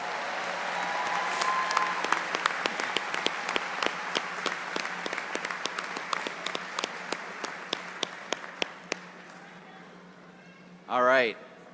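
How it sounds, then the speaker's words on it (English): Sustained applause fills a university commencement hall, dense clapping with distinct sharp claps that gradually thins and fades, followed by a short wavering vocal sound at the very end. "How about another round of applause?"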